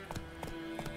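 The horse Roach trots in The Witcher 3, three evenly spaced pairs of hoof clops ringing out at moderate volume over a low background hum.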